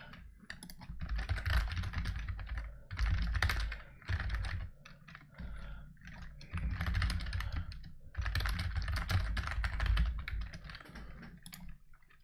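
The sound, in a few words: typing on a computer keyboard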